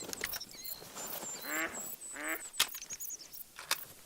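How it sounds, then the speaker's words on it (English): Ducks quacking in the Hunter: Call of the Wild video game, two distinct nasal quacks in the middle over a quiet outdoor backdrop, with a few sharp clicks and faint high bird chirps. "And there goes ducks."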